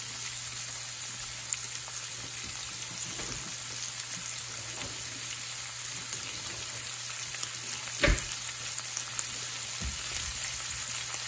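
Shrimp fry in a pan with a soft, even sizzle and crackle like light rain, steady throughout, with a few small clicks and one brief louder knock near the end, no speech.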